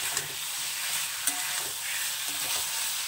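Cauliflower stalk and potato curry being stirred in a pan with a splash of raw mustard oil, giving a moderate sizzle broken by a few scraping strokes; no voices.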